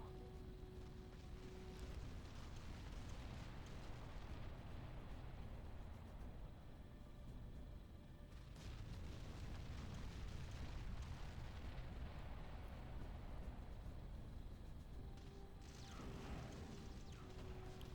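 Artillery bombardment in the Ground Control real-time strategy game, a run of deep rumbling explosions that swell and roll together, with heavier bursts near the middle and end over a low, continuous background roar.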